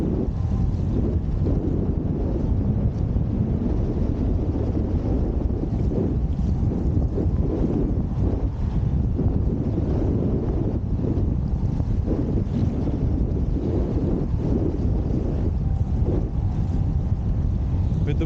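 Wind rushing over the microphone while wing foiling on open water with a north wind, a steady loud roar with a low rumble of water and board movement throughout, no voices.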